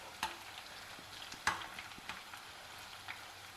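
Raw banana slices deep-frying in hot oil for chips, a faint steady sizzle broken by a few sharp crackles and pops, with no voices.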